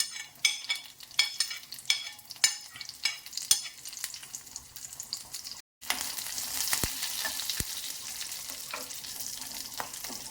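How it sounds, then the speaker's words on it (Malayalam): Dried red chillies and curry leaves crackle and sizzle in hot frying oil over fried onion, with rhythmic stirring clacks at first, then a steady loud hiss after a brief gap, close up. "ഇനി നമുക്ക് ഉണക്കമുളകും കറിവേപ്പിലയും കൂടി ഇടാം"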